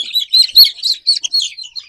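Thirteen-day-old Fayoumi chickens being vaccinated chirp constantly, a close, busy stream of high, overlapping peeps with no pauses.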